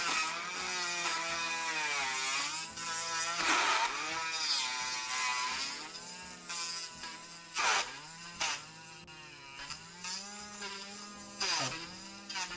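A drill whines and grinds against material up close, its pitch rising and dropping repeatedly as pressure changes, with brief pauses between passes.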